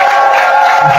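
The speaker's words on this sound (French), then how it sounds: "je voudrais qu'on applaudisse une fois" A large crowd at a political gathering in Cameroon roars and cheers loudly and continuously, a dense close wall of voices across the brief moment.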